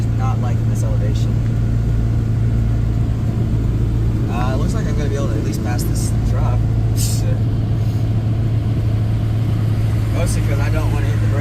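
Toyota Tercel engine droning steadily as it strains uphill at high elevation, a loud low hum with road and wind noise inside the car, while someone talks over it.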